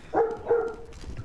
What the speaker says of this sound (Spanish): Shh, perro, calla.